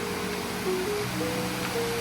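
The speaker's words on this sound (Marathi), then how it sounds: "असे शेकडो छोटे छोटे धबधबे आणि झरे तुम्हाला इथे बघायला मिळतात" Many small waterfalls and springs at Plitvice Lakes in Croatia make a steady, continuous rush of falling water that stays even and close throughout, with no voices.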